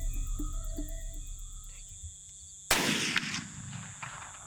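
A single loud muzzleloader blast fired at a buck during a deer hunt cracks out about two-thirds through and rolls off in a lingering echo, following a quiet stretch of steady insect and cricket chirring outdoors.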